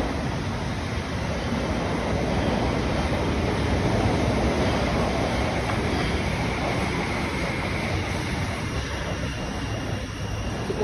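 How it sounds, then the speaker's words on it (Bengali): A Brussels metro train arrives at the station as a continuous loud rumbling roar of wheels and motors, broad and steady throughout with no clear speech. "ট্রেন আমাদের এসে গেছে, দৌড়াতে হবে।"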